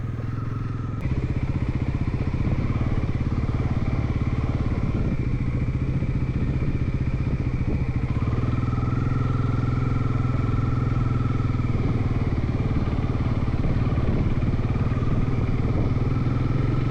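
Motorcycle engine droning steadily on a night ride back toward the city after sunset, loud and close throughout with a constant hum, wind rush and occasional shifts in pitch.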